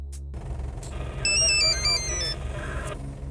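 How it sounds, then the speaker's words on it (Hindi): A mobile phone rings in a police officer's setting, a short melodic electronic ringtone pattern of repeated bright tones lasting about a second, heard over a steady low hum and background noise. "फोन बजने लगा।"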